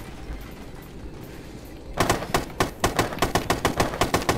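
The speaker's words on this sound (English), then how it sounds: "Okay, so just shoot the wall." Gunfire in a video game aimed at a sprayed wall: after two seconds of low ambience, a rapid run of loud, close shots rings out in a steady automatic rhythm of about a dozen cracks.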